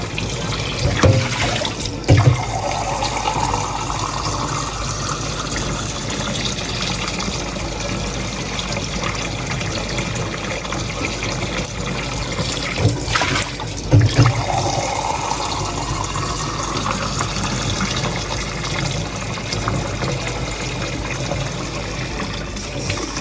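Water runs continuously from a Kangen SD501 ionizer tap after a carbon filter replacement, flushing dark, murky water out. It makes a steady, close splashing flow into a sink for a long stretch, with a couple of brief clunks along the way.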